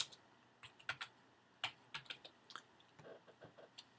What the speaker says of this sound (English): I'm just going to type healthcare